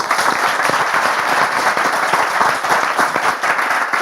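A French studio audience applauds as guests arrive on a talk show, loud and continuous dense clapping throughout with a busy crowd texture.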